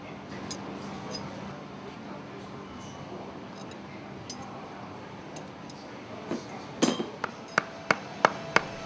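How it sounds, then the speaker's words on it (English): Hammer striking a piece of wood to drive a piston into an air cylinder during an exhaust valve overhaul: a series of sharp, close knocks in uneven rhythm near the end, after a quieter stretch. "Use a hammer and a piece of wood to hammer the piston into place in the air cylinder."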